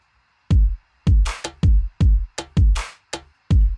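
Programmed drum beat built in Logic Pro X for a latidos-style track: punchy kicks with deep low thumps and crisp snare or clap hits in a steady, sparse pattern, close and loud with no talk.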